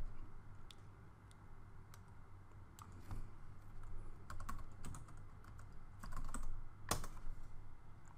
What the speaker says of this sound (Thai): พิมพ์ localhost นะครับ